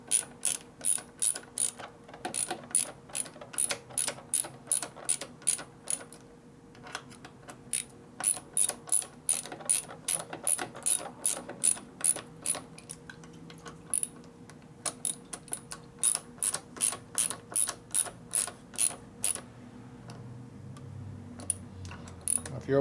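A ratchet clicks in quick bursts while tightening bolts on a Harley shovelhead stroker motor during a bike build, rapid close pawl ticks repeating with short pauses over a low workshop hum.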